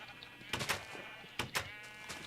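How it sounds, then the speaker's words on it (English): Sheep bleating on a Minecraft sheep farm, several short separate bleats in two clusters, moderately close and clear, with no talking over them. "it's a very high efficiency sheep farm"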